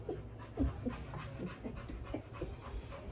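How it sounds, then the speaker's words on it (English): A dog pants hard and fast close by, rapid rhythmic breaths with small throaty catches, and no talking. "You hear Gunner breathing like he worked a double"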